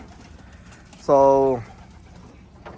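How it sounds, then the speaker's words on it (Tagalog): Pet birds in a backyard coop with a landing board give a single loud, close coo lasting about half a second, with faint talk and quiet background before and after. "yung mga ibon natin nandyan"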